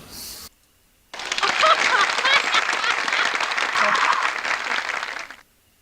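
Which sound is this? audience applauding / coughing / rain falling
audience applauding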